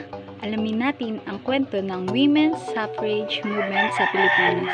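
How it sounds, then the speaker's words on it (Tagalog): A neighbour's rooster crows loudly and repeatedly beneath continuous close speech in Filipino, its calls overlapping the talker's voice. "Sorry sa manok ng kapitbahay."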